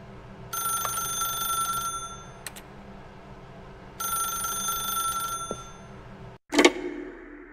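A telephone in The Stanley Parable video game rings twice in long, bright electronic trills separated by a pause, loud and close, followed by a sharp click as the receiver is picked up.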